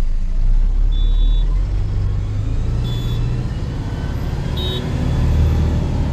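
A vehicle engine runs steadily on the Mumbai–Goa highway in the Konkan, making a continuous low rumble of road traffic that stays fairly loud and even throughout, with no voices.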